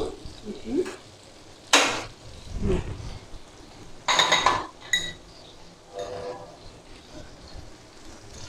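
Ginger paste frying in a pan on a gas stove, with bursts of sizzling, spoon clinks against the pan and scraping stirs, loud and close, in uneven pulses.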